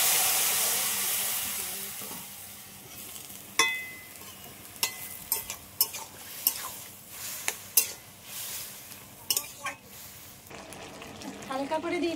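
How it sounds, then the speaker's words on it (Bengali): Pumpkin greens dropped into a pan of lightly browned chopped onion, giving a soft steady sizzle with scattered sharp clinks and scrapes of stirring throughout. "শাকটা এবার ঢেলে দিচ্ছি।"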